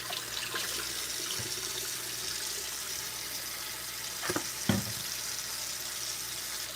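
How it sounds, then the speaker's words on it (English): Tap water runs steadily into a sink as lemons are washed with vegetable wash, with a couple of soft knocks and splashes partway through; no one speaks. "So I'm washing the skin very well with vegetable wash."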